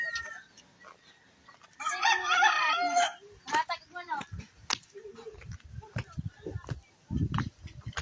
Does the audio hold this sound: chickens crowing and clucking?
yes